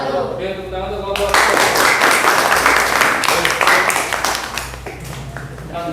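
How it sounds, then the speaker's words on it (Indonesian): A classroom group receives applause: a burst of many hands clapping starts sharply after a brief voice, holds dense and loud for several seconds, then thins out. "tepuk tangan untuk kelompok"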